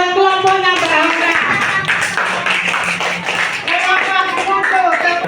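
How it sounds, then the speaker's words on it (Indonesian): A classroom of students claps for a student group, loud rhythmic hand claps with some tapping, while a person's voice carries on over the clapping. "Tepuk tangan buat kelompoknya Mbak Aura."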